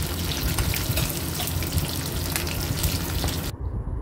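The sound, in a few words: fish frying in mustard oil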